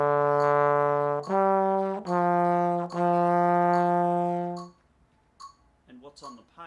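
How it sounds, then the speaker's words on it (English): Trombone played alone and close, four legato quarter notes stepping through a simple line and then a longer held half note, followed by quiet room noise after the last note fades. "Just straight quarter notes followed by a half note would sound like this."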